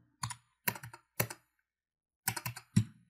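A password being typed on a computer keyboard: six distinct key-press clusters in two short bursts separated by a pause, close and clear in an otherwise quiet room.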